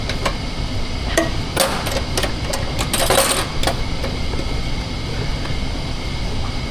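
A tanker hatch on a Scania S450 crude soybean oil tanker is closed and sealed at the port of Barcelona, producing a handful of sharp metallic clanks and knocks over a steady background hum, with no talk.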